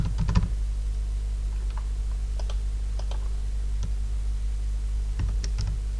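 A computer keyboard types out an email address during a PrestaShop installation through cPanel: scattered, sparse key clicks, close and fairly quiet, over a steady low electrical hum.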